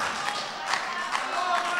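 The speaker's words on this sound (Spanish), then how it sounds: "Un fuerte aplauso para Lucas Metelsky." Audience at a recital clapping, a soft continuous spread of applause heard from within the hall, fairly even and steady throughout.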